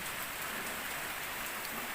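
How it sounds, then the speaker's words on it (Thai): Light, steady rain falls on outdoor surfaces at a plantation or orchard, a soft continuous hiss of fine drops that stays even and unbroken throughout, with no voices. "ฝนตก ไม่แรงนะคะ ฝนตกพรำๆนะคะ"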